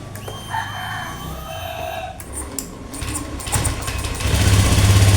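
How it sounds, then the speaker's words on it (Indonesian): A 2015 Honda Beat FI scooter with a faulty ignition switch is kick-started, with some mechanical clatter before the engine catches and settles into a loud, steady idle near the end, while a rooster crows in the background. "Kita engkol saja, Pak, ya."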